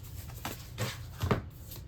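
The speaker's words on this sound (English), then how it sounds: "These cards are a little more difficult for me to shuffle." A few soft papery riffles and slaps of tarot cards being shuffled, quiet and close, in short irregular bursts.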